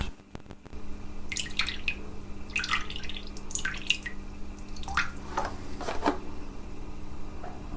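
Orange juice poured in short bursts, a run of separate splashing, trickling pulses over a steady low hum, fairly close and moderately quiet.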